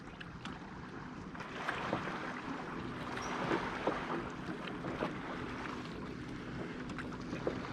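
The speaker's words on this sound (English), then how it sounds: "boats want to ride by me so crazy" A boat motors past on open water while someone fishes with a jig and bobber, a steady low engine rumble mixed with wind and water noise throughout, no voices.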